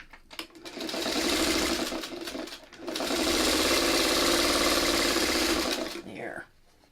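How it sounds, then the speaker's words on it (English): Sewing machine stitching elongated hexie quilt pieces, running in two steady bursts with a short pause between, close and clear, stopping near the end; someone speaks faintly around it. "Now let's get these sewn together."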